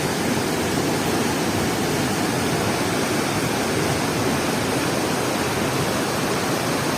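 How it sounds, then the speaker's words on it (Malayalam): A swollen river after a landslide in Wayanad rushes over masses of broken rock, a dense, steady roar of turbulent water that fills the whole clip without a break, loud and close. "ഇതൊക്കെ പുഴ കറങ്ങി മറിഞ്ഞ് ഒഴുകുന്നുണ്ട്"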